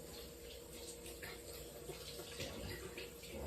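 Tap water runs steadily into a sink as potatoes are washed by hand, a soft, continuous splashing flow at low volume.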